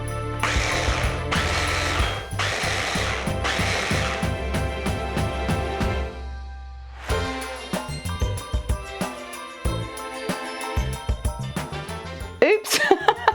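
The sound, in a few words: blender whizzing chocolate chunks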